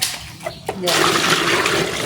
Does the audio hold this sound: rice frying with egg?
no